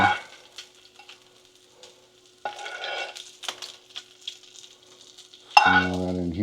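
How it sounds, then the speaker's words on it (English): Fried breakfast food is spooned from a greasy pan into a dish with soft scrapes, light clinks and a faint background sizzle, then a louder tonal clatter at the end. "And I just spoon it into my dish."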